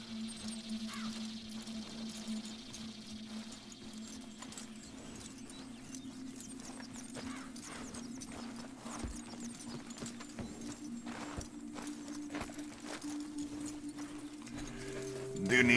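Horse hooves clip-clop steadily through a Red Dead Redemption 2 game scene at moderate level, beneath a constant low musical drone and ambient game sound, with some talk mixed in.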